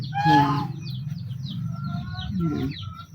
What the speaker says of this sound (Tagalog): Gansa at saka bibi.